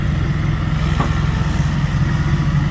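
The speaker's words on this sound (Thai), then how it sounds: "รถไถอีกแล้ว" A farm tractor engine runs loud and close at a muddy pond-digging site, holding a steady, throbbing mid-pitched rumble throughout.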